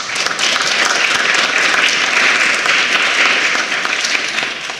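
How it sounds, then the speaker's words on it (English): Youth parliamentarians at a national youth parliament debate applaud together in a dense, sustained round of clapping that fills the room, with no talk over it. "Give yourselves a round of applause."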